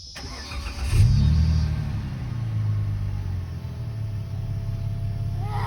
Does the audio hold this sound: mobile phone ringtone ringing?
no